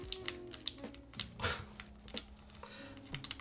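Typing on a QK100 MK2 mechanical keyboard, a quick irregular run of soft, muted key clacks with a few louder strikes, heard close up over a faint background hum.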